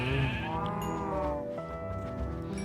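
Farm animals being fed in a farming video game call out in drawn, bleating cries that overlap in several tones, moderately loud and close, with no talk.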